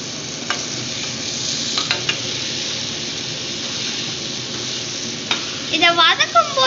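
Vegetables and soya chunks are stir-fried in a pan for brinji rice, giving a steady sizzle with sharp spatula scrapes and clinks. The stirring grows busier near the end, where a voice briefly speaks.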